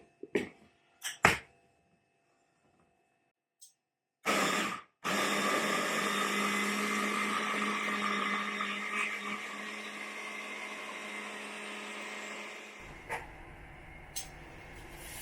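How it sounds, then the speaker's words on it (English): Blender whirring loudly through curry paste for a Thai squash curry, a steady grinding roar lasting about eight seconds after a few short clicks, then cutting off. "So for this, I'm using a sort of blender"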